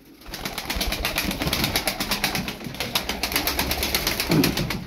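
Turkish tumbler pigeons are released from a loft, their wings flapping in a rapid repeated clatter close by, with soft cooing and rustling through the burst.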